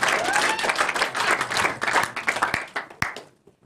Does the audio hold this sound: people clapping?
yes